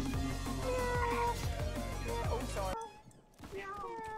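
Cat meowing in the Roblox game Criminality, a few short mews heard under game music and noise that cuts out briefly near the end.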